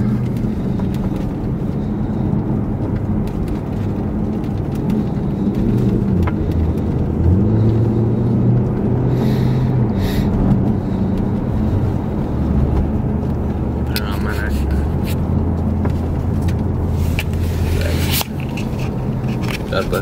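Inside a 2012 Mercedes C63 AMG driven in comfort mode with the windows up, a steady low engine and road drone runs throughout the cabin at a constant level, with faint rustles on top.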